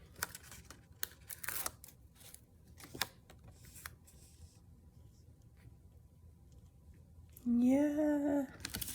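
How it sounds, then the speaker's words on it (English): Scissors snip paper for a handmade junk journal in a few short, close cuts near the start, followed by quiet handling noise and a brief loud tonal sound near the end. "I'm just going to cut to make my other two sides"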